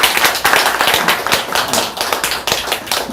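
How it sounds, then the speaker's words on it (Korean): A lecture audience claps together in a dense, even round of applause, loud and close, its many overlapping claps holding steady for a few seconds with no voices over them. "회장님한테 다시 박수 한번 치겠습니다"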